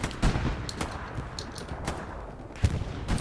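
Machine gun fire in Hell Let Loose, sharp gunshot bursts and single cracks popping at irregular intervals over a rumbling battlefield backdrop, moderately close.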